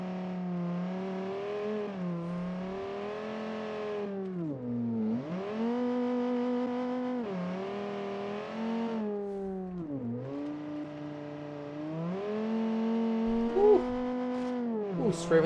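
A car engine in the BeamNG driving game revs repeatedly, rising and falling in long steady pulls with brief dips between gear changes, loud and close with no other sounds over it.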